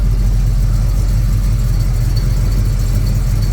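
A car engine idles steadily to warm up on a cold day in the hills, a loud, close, even low rumble with no talk over it.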